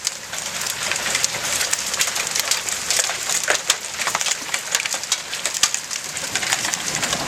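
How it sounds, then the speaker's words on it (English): Hail pelts a tin roof during a severe lightning storm near Toronto, a dense, loud, continuous rattling patter with sharper individual pings scattered throughout, close overhead and with no voices. "That is pieces of hail hitting the tin"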